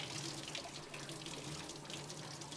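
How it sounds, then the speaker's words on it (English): Tap water runs steadily over a pig's large intestine as it is rinsed out, a constant close splashing stream with no speech. "What we're going to do is run it under the water."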